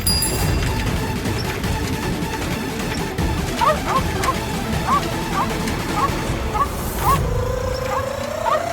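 A dog in an Indian TV drama barks repeatedly in a quick series of sharp yaps over a busy, noisy background, moderately loud and close.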